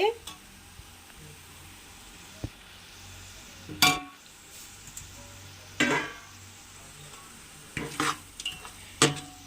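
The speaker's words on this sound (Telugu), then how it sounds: "కొత్తిమీర కూడా అయితే తిప్పుకుంటున్నానండి." Fresh coriander leaves are stirred into coconut rice cooking in a pan: a faint, low sizzle under a handful of distinct spoon scrapes and metallic clinks spaced a second or two apart.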